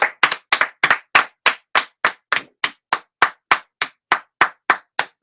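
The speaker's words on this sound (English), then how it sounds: "Round of applause for System." A single pair of hands claps close and loud in a steady, evenly spaced rhythm, about fifteen crisp claps in a row with silence between them and no talk.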